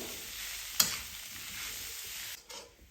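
Halo (garden cress) bhurji cooking in a pan over medium heat, a steady soft sizzle with a brief sharp stir or clink near the start and a slight dip near the end.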